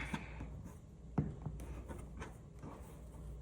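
Scissors or a rotary cutter trims excess quilting fabric along a ruler edge during foundation paper piecing, giving faint, soft scraping and rubbing strokes with a couple of sharper ticks, close by and otherwise quiet.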